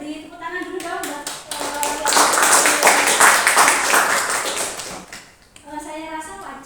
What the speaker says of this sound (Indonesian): mungkin dari saya beri tepuk tangan dulu dong buat